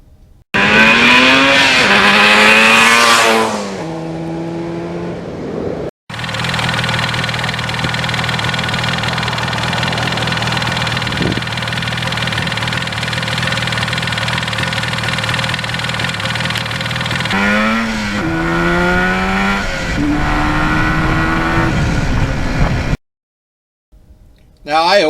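A 1977 Yamaha RD400 two-stroke motorcycle revs up and pulls hard through rising gears, rasping close by, then settles into a steady drone before another run of climbing revs.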